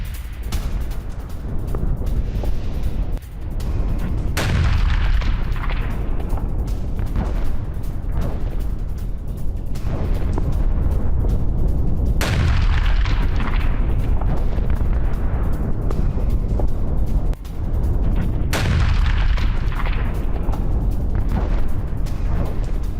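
Heavy explosions roll in as a British-supplied AS-90 artillery gun in Ukraine is destroyed by a Russian drone attack. There are several deep booms, each followed by a long rumbling decay, loud and continuous with no voices.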